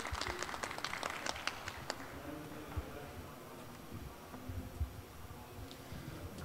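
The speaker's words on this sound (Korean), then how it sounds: "박수로 맞아주시기 바랍니다" An audience claps to welcome a presenter at a startup showcase. A burst of applause fills the first two seconds, then it thins into scattered claps and a low murmur of room noise.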